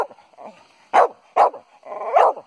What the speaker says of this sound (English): He's a really naughty dog.